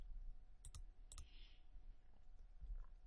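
Computer mouse clicks made while working in business software: two quick pairs of soft, close clicks early on over a low steady room hum, then quiet.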